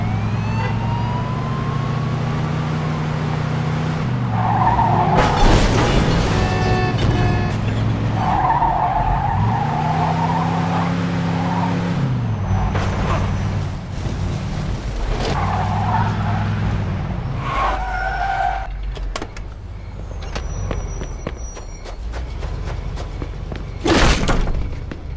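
A police pursuit of a speeding car in Mafia 2, with screeching tire skids, revving engines, a wailing siren and crashing impacts layered loudly over a long chase, punctuated by sharp bangs near the end.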